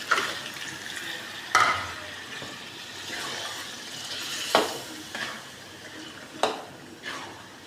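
Meat being dry-fried with spices in oil in a pan, a steady low sizzle broken by a few sharp clinks of a spoon against the pot, close by with no voices.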